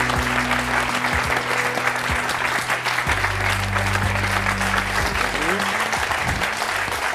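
A television talk-show studio audience applauds a guest in a loud, sustained, even wave of clapping, with low musical tones underneath.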